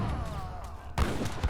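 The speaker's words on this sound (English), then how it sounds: "a really nice cannon shot right there" Cannon shot in Age of Empires III during a tournament match: a short, low boom bursts out about two-thirds of the way through, followed by a smaller thump, over steady game ambience.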